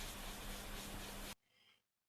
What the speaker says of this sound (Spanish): acabado final del proceso de lijado se lo voy a dar con una lija tipo esponja 3M grado 3000